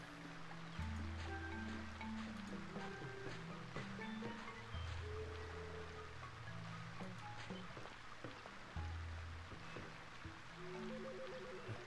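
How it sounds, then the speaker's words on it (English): A waterfall in the video game The Curse of Monkey Island gives a soft, steady rushing water wash beneath low looping game music tones, quiet and continuous with no voices. "A waterfall."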